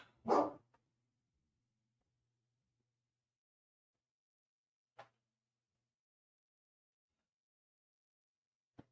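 A single sharp dog bark breaks the near silence, followed much later by two faint, brief clicks or distant yips.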